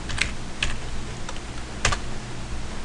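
Several separate clacks of fingers tapping a computer keyboard while entering a search term, spaced irregularly over a steady hiss.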